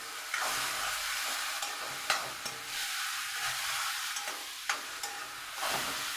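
Tomato, ginger and mint sizzle steadily in a hot pan, a constant close frying hiss broken every so often by sharp scrapes of a spoon stirring, with no talking.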